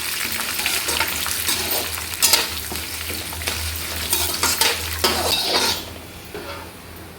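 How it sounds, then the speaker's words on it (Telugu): Dried red chillies sizzle steadily in oil in a pan while a metal spoon stirs and scrapes against it, loud and close, with occasional clinks and no talking. "ఒక 5-6 ఎండుమిర్చి. ఇది బాగా వేయించుకోవాలండి."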